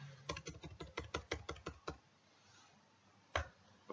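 Typing code on a computer keyboard: a quick run of about a dozen crisp, close key clicks, then a pause and one final louder keystroke.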